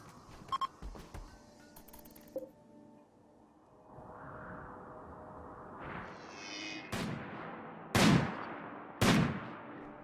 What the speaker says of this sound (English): if you're gonna hunt anything, you might as well do it with a sniper rifle